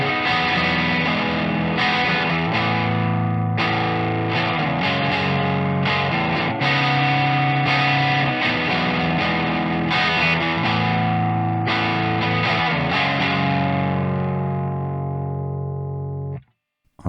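Electric guitar played through a Fake Plastic Trees low-gain overdrive pedal, a lightly driven, saturated tone with sustained chords and picked notes ringing steadily for about sixteen seconds before cutting off, played alone with no talking.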